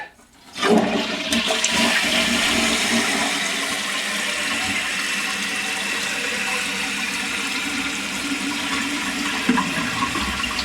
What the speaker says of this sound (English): it's time to give her the old flush and see how it makes out